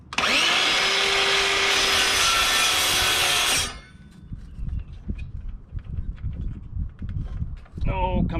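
Wood being sawn during trimming work: a loud, steady rasping cut for several seconds, then it stops, leaving low rustling, knocking and handling noises.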